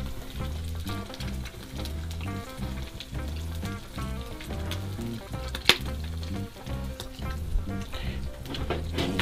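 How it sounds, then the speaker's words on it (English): A couple of eggs frying in a pan give a steady, close sizzle with crackling pops throughout, plus a sharper tap near the middle, with no talk. "A couple fried eggs."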